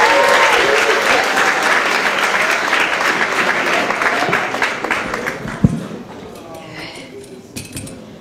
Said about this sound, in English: start clapping it up for Leo Lytel